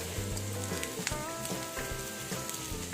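Pre-boiled rice sizzles steadily as it fries in hot oil for fried rice, a dense continuous crackle with soft scraping stirs, close and fairly loud throughout.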